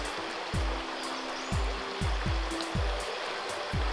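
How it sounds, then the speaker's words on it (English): A creek flows at dawn on a camping trip in a steady, soft broadband rush of water, with repeated low, sweeping thumps recurring every half second or so beneath it. "I'm just down at the creek, as you can see and probably hear."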